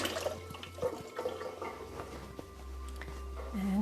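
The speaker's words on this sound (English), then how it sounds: "So I'm just going to rinse my hands off." Hands are rinsed under a running tap in a kitchen during dessert preparation, a soft steady stream of water with faint splashing, quiet and close.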